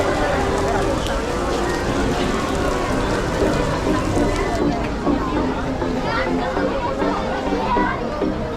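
Heavy rain pours steadily throughout, a dense continuous hiss at an amusement park in Paris, with people chattering nearby over the downpour.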